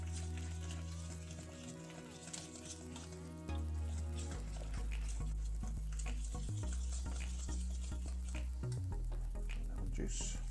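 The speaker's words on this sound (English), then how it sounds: "Firstly, I'm going to add the butter. Start to mix that through." Butter being stirred through a warm lemon filling for individual lemon meringue pies, heard as a steady scraping and stirring under loud continuous background music.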